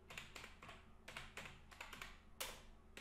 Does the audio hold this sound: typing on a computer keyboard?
yes